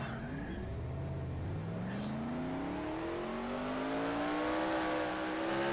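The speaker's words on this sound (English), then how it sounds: "As you hear those trucks coming, that should be our leaders, I think." Racing trucks in a NASCAR-style racing game at Mars Speedway approach with rising, revving engine whine, several engine tones climbing in pitch and growing louder as they near.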